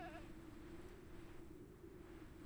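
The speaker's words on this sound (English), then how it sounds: "There's another goat." Goat bleating in a hardcore survival video game, a short wavering bleat at the start over a steady droning game ambience that fills the rest of the moment.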